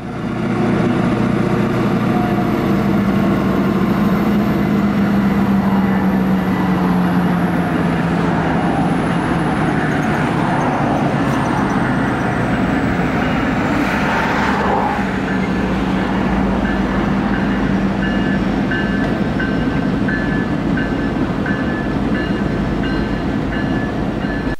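A Norfolk Southern GP59E diesel locomotive works a rail yard with a slug unit and a GP38-2, its engine rumbling steadily throughout, with wheel squeal, metallic clanks and a faint passing whine.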